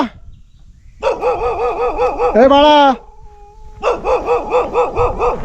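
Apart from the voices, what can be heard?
dog barking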